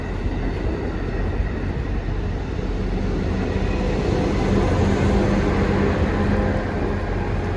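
An Amtrak train, number 93 from Boston to Norfolk, Virginia, arrives and rumbles steadily nearby, a continuous broad roar of rolling wheels that builds slightly over several seconds.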